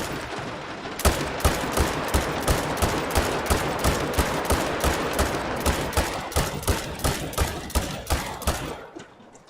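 Sustained rapid gunfire at a shooting range in the video game The Hunting Lodge: a long, loud string of sharp, evenly spaced shots cracking one after another for several seconds before trailing off, with no talking.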